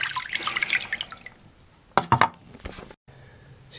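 A Brymen BM869s digital multimeter, its case buttoned up, is pushed underwater, giving close splashing, dripping and sloshing of water in a few short bursts with brief quiet gaps.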